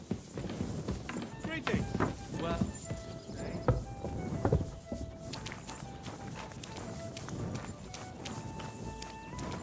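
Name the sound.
horse hooves in video game Kingdom Come Deliverance 2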